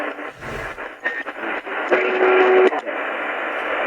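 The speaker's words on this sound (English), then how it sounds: "Now it's going to cruise up the band. You get an idea what it sounds like." A Prunus J-81S solar shortwave radio scanning up the AM band, loud static and hiss broken by brief snatches of stations and a short steady tone as it sweeps.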